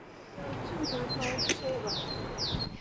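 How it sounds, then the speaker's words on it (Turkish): Short, high bird chirps repeat every half second or so outdoors at a hospital sleep laboratory, with a voice talking steadily underneath. "Kuş sesleri de var duyuyorsunuz"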